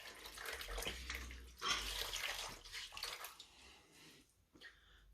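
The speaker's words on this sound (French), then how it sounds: "Je viens mouiller ma chiffonnette" Running tap water splashes over a cleaning cloth as it is wetted, close and fairly soft, with uneven trickles and wet squelches and no talking.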